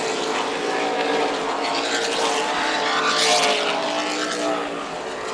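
Super late model race cars thunder around the Tucson Speedway oval, a dense, loud engine roar swelling as the pack passes close, with tire rub blended into the din.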